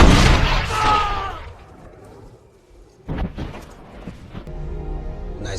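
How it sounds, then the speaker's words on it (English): A sudden burst of gunfire in a film action scene, a couple of sharp, loud bangs in the middle of the clip amid other rumbling soundtrack noise. "he hears Shaw arrive, followed by a sudden burst of gunfire"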